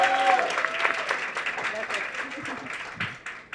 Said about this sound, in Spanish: que también merece un aplauso.